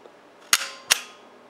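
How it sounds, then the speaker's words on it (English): An empty Instamatic 110/126 camera fires its shutter twice, two sharp, close mechanical clicks a fraction of a second apart, each with a short rattling tail, in quiet surroundings. "you cock the shutter without film, open the back, look through the back, through the lens, and look for the shutter working"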